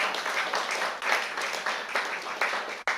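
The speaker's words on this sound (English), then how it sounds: "You give him a round of applause." Guests at a BYD car showroom grand opening applaud the MC with a brief burst of crowd clapping in uneven surges that cuts out abruptly near the end.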